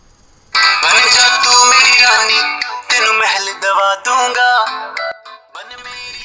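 A caller tune song preview plays from a phone as a free Jio tune is being chosen, a full musical track with steady melody and accompaniment running loud and clear throughout, briefly dipping between phrases, with no talking over it.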